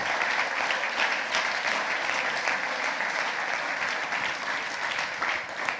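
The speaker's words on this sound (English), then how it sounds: "We'd like to ask a big round of applause for them as well." A conference audience applauds at a tech hub afternoon session, steady dense clapping from a large crowd that fills the room for several seconds.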